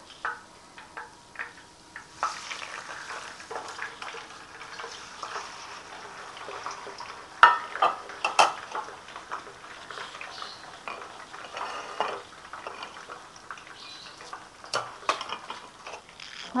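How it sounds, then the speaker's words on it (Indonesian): Carp (ikan mas) fries in hot oil with a soft, steady crackle and sizzle, broken by a few sharper pops and clinks of a utensil near the middle. "ditiriskan, lalu kita goreng lagi yang satu nih"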